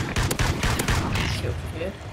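Rapid gunfire from a powerful weapon in the video game Call of Duty: Ghosts, a loud dense burst of shots under in-game sound and talk.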